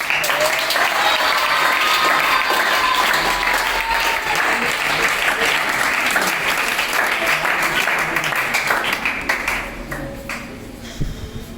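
Audience clapping at a school boys-versus-girls education quiz event, a dense steady wash of applause that carries on strongly before thinning out near the end, with tonal pings and a faint voice mixed in.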